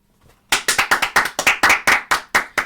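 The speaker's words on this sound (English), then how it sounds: "Round of applause." A few people clap in a quick, close burst of about a dozen sharp, separate claps after a brief faint murmur, with no speech over it.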